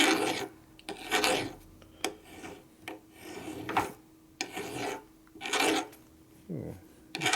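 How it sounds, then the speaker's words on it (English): A fine file deburrs a metal part during the engine rebuild of a 2001 Indian Scout 88ci big-bore S&S Evo motor. Close, rhythmic rasping strokes repeat about every second with brief pauses between them. "If you use a fine file, it'll make it look real smooth"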